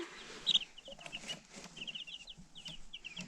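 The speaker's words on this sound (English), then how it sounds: "we got 5 little bitty baby chickens" Five Rhode Island Red baby chicks in a laundry room, chirping in a faint, rapid run of high thin peeps that come in short clustered bursts with quiet gaps.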